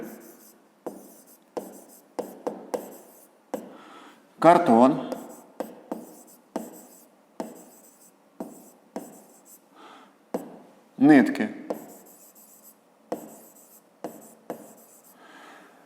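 A pen scratches in a notebook in short, repeated bursts of strokes during a 7th-grade physics lesson, with a voice speaking between and over the writing.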